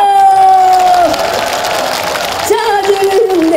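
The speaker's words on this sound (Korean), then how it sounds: "박수" An outdoor festival crowd at a Korean trot concert claps and cheers, with whoops rising over steady applause while a singer's sustained voice fades out and then returns.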